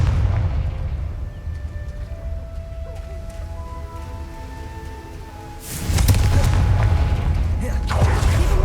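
A Confringo fire spell from Hogwarts Legacy bursts into a loud, broad explosive roar near the end, sustained and rumbling after a quieter stretch of hum and tonal ambience.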